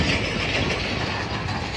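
Allama Iqbal Express passenger train rolling past Landhi railway station in Karachi, a loud, close, continuous rumble of wheels and carriages with rattling clatter filling the whole moment.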